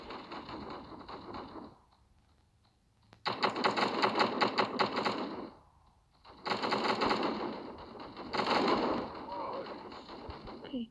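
Rapid automatic gunfire from the mobile shooter Guns of Boom, fired in several sustained bursts separated by short pauses, loud and close, with game sound filling the gaps.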